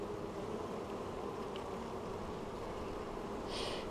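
Honey bees drone in an open beehive during a colony check, a dense, steady close buzz of many insects that holds without pause throughout.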